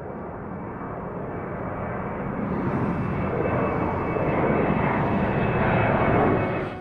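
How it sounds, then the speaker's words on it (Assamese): A passenger airplane takes off with a loud, steady engine roar that swells gradually and holds strong near the end, with no talk over it. "নিৰ্দিষ্ট সময়ৰ 10 মিনিট পলমকৈ উৰা মাৰিলে প্ৰণয়ৰ যাত্ৰাৰত বিমানখন।"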